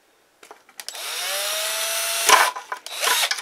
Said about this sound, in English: Homemade drill bit, man.